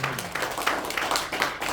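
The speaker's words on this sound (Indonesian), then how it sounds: "Tepuk tangan yang meriah." Applause from a church congregation during a worship service: a steady wash of many hands clapping at moderate distance, fairly soft and continuous throughout.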